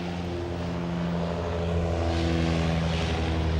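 A Martin Mars water bomber, a huge, slow propeller plane, drones steadily overhead with a deep, throbbing multi-engine hum that swells slightly louder partway through, with no voices.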